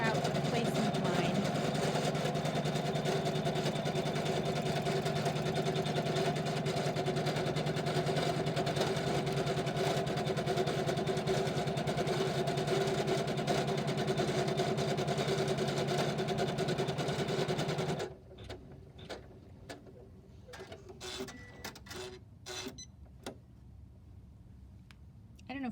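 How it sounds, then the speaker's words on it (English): A sewing machine stitches out a placement line with a soft, steady mechanical hum for about eighteen seconds, then stops, leaving quiet clicks and handling sounds. "we're going to let the machine stitch out the placement line"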